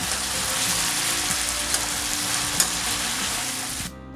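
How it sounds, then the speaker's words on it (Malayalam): Chicken pieces for chicken kondattam fry steadily in a pan, a dense continuous sizzle with occasional stirring clinks, close and loud with no talk, cutting off abruptly at the end. "ഇനി അതിനെ വെള്ളമെല്ലാം പറ്റിച്ച് ഫ്രൈ ആയിട്ടെടുക്കണം"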